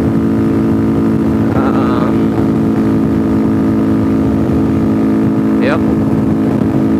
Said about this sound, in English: so my bike exhaust got fixed. Actually, it's a lot quieter, which is upsetting, but it's got a sort of a low grunt